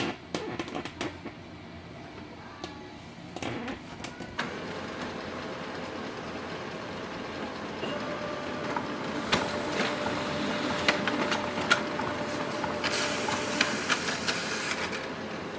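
A Brother HL-L3280CDW color laser printer whirs and clicks as it pulls in and prints a page, a steady mechanical hum that grows busier toward the end.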